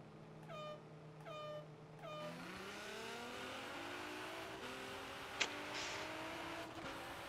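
A 2017 Nissan GT-R drag car in Forza Horizon 3 launches hard, its engine note climbing steadily in pitch as it accelerates, loud and continuous with a brief sharp transient near the end and no talking.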